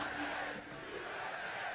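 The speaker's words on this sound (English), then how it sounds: "This is a big crowd." A large outdoor crowd at a political rally roars and cheers in a dense, continuous wash of voices, loud and sustained throughout.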